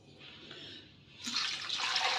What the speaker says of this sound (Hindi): 1 किलो पानी डाल दिया।